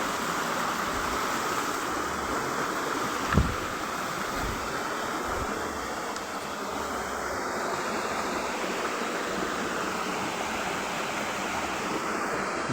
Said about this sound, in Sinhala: දොළ පාරක් තියෙනවා.